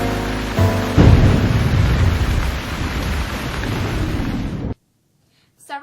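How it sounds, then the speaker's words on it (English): Heavy rain pours loudly throughout as a deep thunderclap booms and rolls close by, then everything cuts to silence before a brief faint tone at the end. "That system also brought with it some loud thunder last night."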